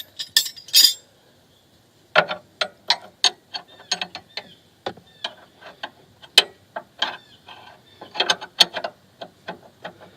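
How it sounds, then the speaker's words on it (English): A ratchet wrench works loose the lower strut bolt on a Porsche 986 Boxster, giving close, sharp metallic clicks in quick irregular bursts with brief pauses between them. "now we're going to remove this lower bolt, which is I think a 22 or 21"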